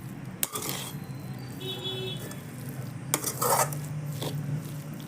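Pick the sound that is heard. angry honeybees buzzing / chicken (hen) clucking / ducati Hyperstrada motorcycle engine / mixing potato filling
mixing potato filling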